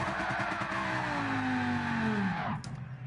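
A Lamborghini Huracan in Gran Turismo Sport revs hard with a rising engine note, then a descending whine as it slows, and the sound drops off abruptly near the end.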